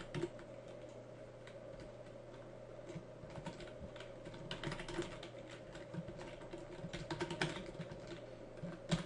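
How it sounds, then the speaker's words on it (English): Someone types HTML code on a computer keyboard, with quiet, uneven runs of key clicks and taps continuing throughout and no voices. "Now if you're not sure what I'm typing there"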